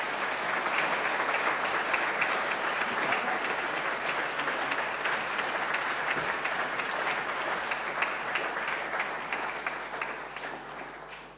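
An audience claps to welcome economist Joseph Stiglitz to a lecture stage, with steady, dense applause filling the hall and no voices heard, fading slightly toward the end.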